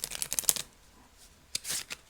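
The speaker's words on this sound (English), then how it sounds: "Let's try to shuffle it this way." Secrets of Paradise tarot cards, not plastic, are riffled close up in two short bursts of crisp flicking, a longer one first and then a brief second pass.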